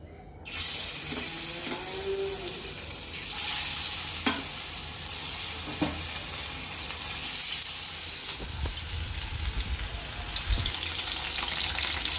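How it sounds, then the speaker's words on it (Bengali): Steady crackling sizzle of fish frying in white oil in a wok, continuous and close, with a few faint clinks and stirring noises. "আমি কড়াইয়ে সাদা তেল দিয়ে মাছগুলো ভেজে নিচ্ছি।"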